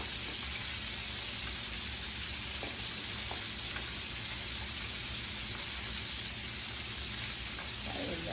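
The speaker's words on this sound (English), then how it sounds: "And we're going to just wait and fry that" A chicken wing fries for Southern-style fried chicken in a skillet, giving a loud, continuous, dense sizzle and hiss close by with faint pops, and no talking.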